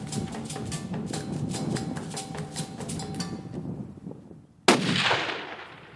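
A single 6.5x284 rifle shot on a long-range South African safari hunt, a sharp loud crack near the end, preceded by wind and a rapid clattering rhythm.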